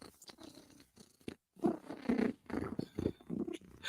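A cat purring close up, a soft rumbling purr in uneven pulses with a brief gap partway through.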